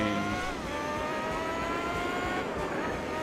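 A race car engine revs loud and steady in Gran Turismo 4 during a Formula GT championship race, its high, continuous whine sliding slightly in pitch, with no talking.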